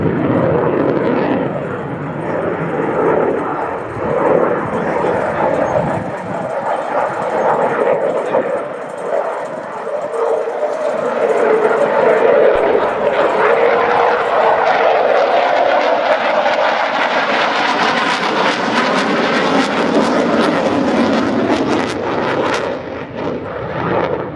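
Czech Air Force Saab JAS 39C Gripen fighter jet performing a flying display at the RIAT airshow, a loud continuous jet roar that swells and shifts in pitch as the aircraft maneuvers, with crowd and commentary noise underneath.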